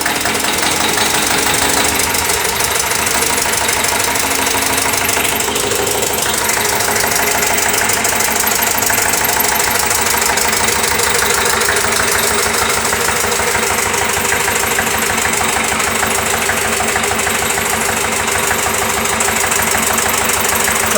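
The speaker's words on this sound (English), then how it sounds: "So now the engine has been started." A diesel engine on a test bed, started by flywheel, runs steadily with a rhythmic knocking idle, loud and close, continuing without pause.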